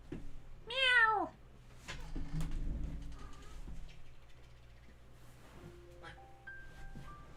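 A human voice imitates a cat's meow with a single loud, rising-and-falling call near the start, followed by quieter background sounds and faint room noise.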